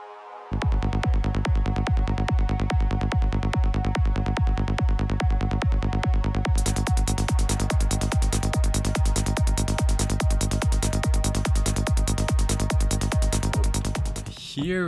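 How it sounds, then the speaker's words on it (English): A psytrance synth pad sustains over a relentless fast pulsing electronic beat, loud and dense, growing brighter partway through before cutting off. "Today we're gonna do easy Psytrance pads using Faceblend as our synth"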